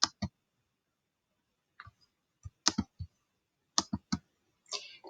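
Mouse clicks on a computer while selecting a link, a handful of crisp, close, isolated clicks spaced irregularly with quiet gaps between them.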